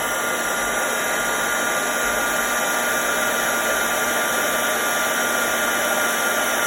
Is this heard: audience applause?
no